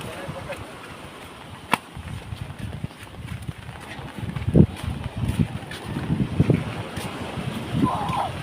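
Strong wind buffets the microphone over the wash of rough waves at a beach resort area battered by a typhoon, with gusty rumbling and occasional louder surges.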